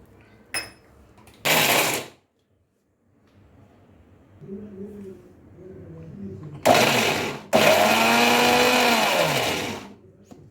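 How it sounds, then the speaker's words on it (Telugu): A kitchen mixer grinder blending coconut and peanut chutney with cumin, tamarind, salt and water, loud whirring bursts in short pulses, then two longer runs, with someone talking in a gap. "ఇవన్నీ ఒకసారి మిక్సీ పట్టేద్దామండి"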